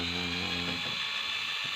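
A small rotary tool whines steadily while sanding the inside of a leaking Suzuki GT100 carburetor, then winds down after under a second, leaving faint scraping and handling noises close by.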